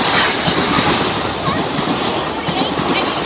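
A street train passes at Elkins, a dense, loud clatter of wheels and rail noise filling the whole stretch, steady with slight swells.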